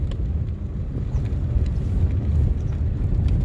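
A John Deere tractor works a field being prepared for sugarcane, levelling the ground, with a steady low engine rumble throughout, heard fairly close with wind buffeting the microphone.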